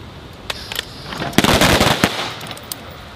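Rifles crack repeatedly on an army marksmanship range as shooters fire from the high ready, producing a dense cluster of loud, overlapping shots with a few scattered reports before and after.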